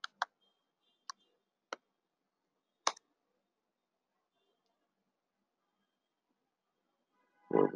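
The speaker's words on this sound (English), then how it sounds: "I'm typing the subject here." A handful of sharp, sparse clicks of individual keystrokes typed on a keyboard, spaced out with quiet gaps, then a voice starts at the very end.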